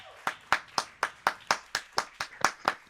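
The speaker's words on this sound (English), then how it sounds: "but I applaud you." A single pair of hands clapping slowly and steadily, about eleven sharp, evenly spaced claps in three seconds, close and distinct with near silence between them.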